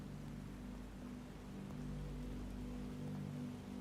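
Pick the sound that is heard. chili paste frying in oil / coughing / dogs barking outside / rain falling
rain falling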